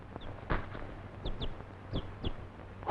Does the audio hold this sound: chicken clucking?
yes